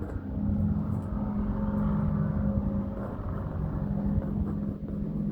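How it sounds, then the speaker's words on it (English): Loud motorcycles pass on a nearby road, a continuous low engine rumble and drone that holds steady throughout, heard from indoors without any voices. "There's some motorcyclists that are really loud around here and it's annoying."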